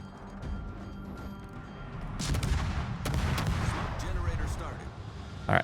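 Ship guns boom in a naval warfare video game, a few heavy blasts and rumbling salvos rising over steady background game noise midway, with a player talking around them.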